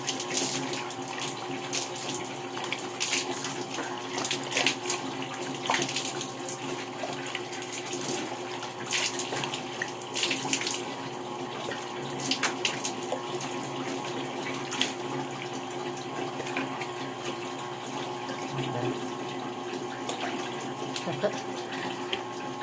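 Tap water running continuously while someone rinses by hand at a sink instead of using the shower, a steady splashing flow with small bursts of water hitting skin and basin.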